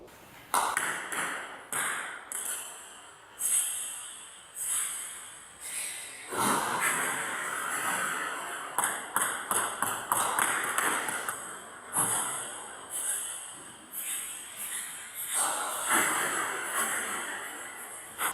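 A table tennis ball is struck repeatedly during topspin kick serve practice, giving sharp pinging taps in irregular clusters, close and bright, with a few brief breathy sounds between hits.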